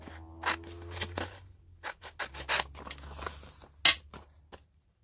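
Scissors cutting through an old book page, giving a run of crisp snipping and scraping strokes, close and fairly quiet, with no voice.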